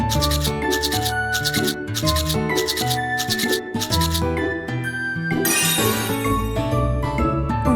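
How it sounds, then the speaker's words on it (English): A cartoon toothbrush scrubs teeth up and down in a quick, regular series of bristly brushing strokes over bright background music, followed by a sparkling jingle. "Brush the teeth up and down."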